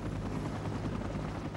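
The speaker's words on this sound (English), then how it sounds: "Additional rescuers were carefully brought in by helicopter, three at a time." A helicopter flies during an avalanche rescue, its loud, steady rotor thrum close and continuous with no other sounds.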